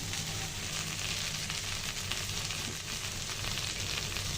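Okra (bhindi) fries steadily in a pan for bhaji, a continuous close sizzle with faint crackle and no talk.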